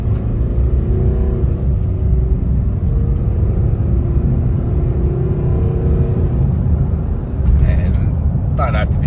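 A Nissan NP300 with a throttle controller pulls away at about quarter throttle near 20 km/h, giving a steady, loud low engine rumble that hums evenly throughout, with a brief clatter near the end.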